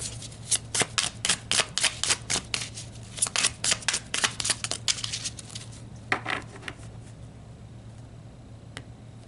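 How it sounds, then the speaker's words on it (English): Oracle cards are shuffled and pulled, giving a quick run of crisp, close riffling flicks and taps that slows and thins out near the end, with no talking. "let's pull some Archangel Metatron cards and see what he wants to talk to you guys about"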